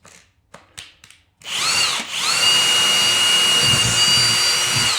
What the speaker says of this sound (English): I'm gonna go ahead and drill a hole for the center mounting hole.